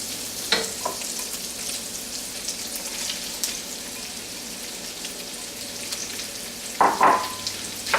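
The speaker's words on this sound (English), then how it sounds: "we're just going to stir this for a couple of seconds, and then we're going to go ahead and put the onions in" Sausage, salami and fennel seed frying in a pan give a steady close sizzle, broken by a few clattering stirs near the start and end; no one speaks.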